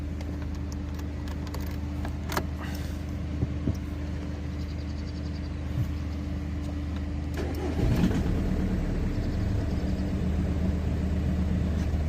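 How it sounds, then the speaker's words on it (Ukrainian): A 2006 VW Golf Plus 1.9 TDI 77 kW diesel is cranked, with a steady low idle-like rumble underneath throughout. Near the eight-second mark a louder, rougher burst rises as the engine catches. "Можу навіть завести її показати, як заводиться машинка."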